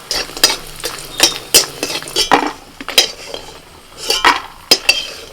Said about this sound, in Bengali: অল্প করে দুটো বাদাম ভেজে নিচ্ছি কিছু ডালের বড়ি ভেজে নিচ্ছি